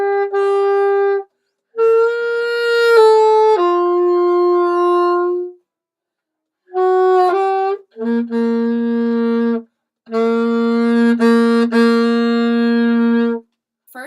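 Alto saxophone plays the third section of a song, a solo melody of sustained, clear notes in several phrases with short pauses between them.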